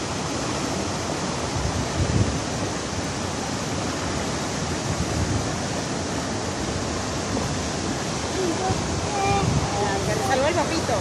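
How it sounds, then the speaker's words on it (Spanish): A waterfall in Abejorral, Antioquia, Colombia, gives a steady, dense rush of falling water throughout, fairly loud and even. Faint voices rise briefly near the end. "Mira la cascada."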